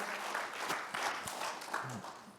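A church congregation claps for God during an Indonesian Sunday afternoon service, giving a steady, fairly quiet round of applause with a voice briefly heard through it.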